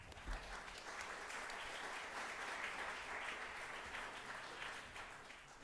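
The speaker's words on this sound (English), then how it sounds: "I ask your first applause for our first speaker, Professor Walter Thiel." Faint, distant audience applause at a theoretical and computational chemistry conference, greeting the first speaker with steady, even clapping that holds for several seconds.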